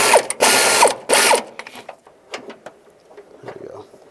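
Ratchet fitted with an extension and shallow socket working loose a transmission mount bolt on a 2010-2017 Chevrolet Equinox, two bursts of loud close clicking followed by quieter taps and small mechanical knocks.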